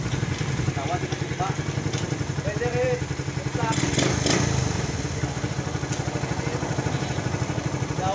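A Rusi Raider 150 motorcycle engine runs nearby with a steady, fast putter and light clatter, while someone speaks over it.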